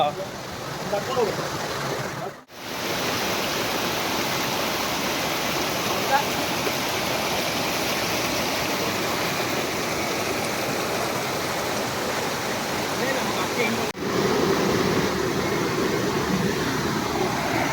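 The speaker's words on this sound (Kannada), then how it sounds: "ಈ ಒಂದು ಸುಂದರವಾದ ಜಲಪಾತ" A steady, broad roar of Kannika Falls, a waterfall near Sirsi-Siddapur, Karnataka, fills the scene, constant and loud, with two brief dropouts.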